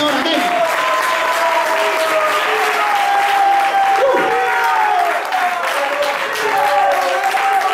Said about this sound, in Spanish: ¿Cuánto le dan un aplauso de alabanza al Señor?